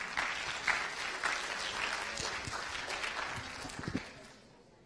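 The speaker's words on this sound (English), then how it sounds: "Give him a round of applause." A round of audience clapping, fairly steady and moderately loud, tapering off toward the end.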